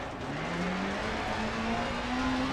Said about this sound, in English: Even with 600 horsepower, engine starting to struggle.